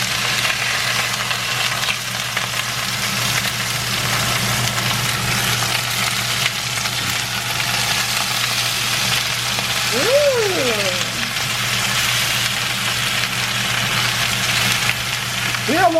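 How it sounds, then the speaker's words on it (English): Hash browns frying steadily in a pan, a continuous loud sizzle running throughout with a low hum beneath and a brief higher squeak near the end. "Let it keep on frying."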